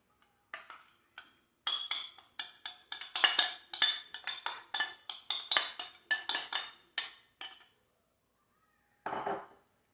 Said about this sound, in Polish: Sos łączymy z warzywami.